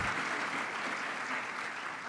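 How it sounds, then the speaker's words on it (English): Applause from a conference audience at Bloomberg CityLab 2024, steady clapping picked up faint and distant, without speech over it. "We can clap."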